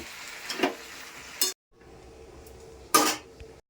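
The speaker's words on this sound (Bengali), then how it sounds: "এখন ইলিশ মাছের মাথাগুলো দিয়ে দিব ভালো করে নেড়ে চেড়ে আবার ঢেকে দিব" Hilsa fish heads are stirred in a cooking pot, with a couple of metallic scrapes and clanks, a short lull, then a sharp clatter as the lid is set back on.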